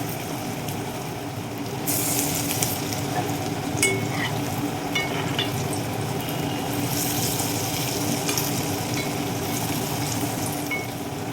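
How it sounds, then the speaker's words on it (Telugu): Sprouted chickpea masala vadas fry in hot oil, giving a steady, close sizzle and bubbling that swells louder after the first couple of seconds and holds evenly, with no talking. "ఆయిల్ బాగా వేడైపోయింది కదా ఫస్ట్ వేసింది ఇలా వస్తుందండి"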